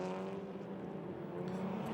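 SEAT Leon Eurocup race cars at Circuit de Barcelona in 2014, engines droning steadily at close range with a sustained tonal roar and no clear pass-by swell.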